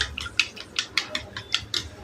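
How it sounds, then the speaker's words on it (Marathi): Three eggs with a little salt whisked in a bowl for street-style anda bhurji, giving a steady run of light, quick clicking taps about every quarter second, close and fairly soft, with no talk. "आणि हे अंडे आता फेटून घ्यायचे"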